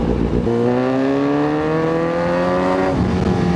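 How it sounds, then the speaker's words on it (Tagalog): A motorcycle with a loud aftermarket Motowell exhaust revs into a strong, rising, raspy engine note, holds it for a couple of seconds, then drops back, heard close from the rider's position. "Nakakapanibago pag maingay ulit yung exhaust."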